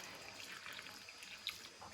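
A litre of water poured into a dough mixture of flour for manti, a soft close trickle and splash with no talking.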